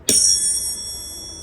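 A classroom star-shaped attention chime is tapped once, giving a bright, clear bell tone that rings on and slowly fades over a quiet room.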